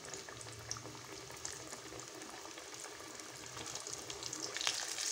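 Potato samosas fry in oil in a small kadhai, giving a soft, steady bubbling sizzle that holds throughout and swells slightly toward the end, with no talk.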